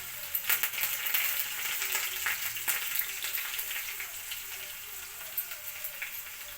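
Onions and curry leaves frying in a pan, giving a steady close sizzle and crackle with small popping spikes throughout, like light rain.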